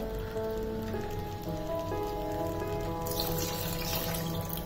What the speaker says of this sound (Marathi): आपण मिक्सरचं भांडं धुवून घेतलं ते हे पाणी आहे ते घालूया आपण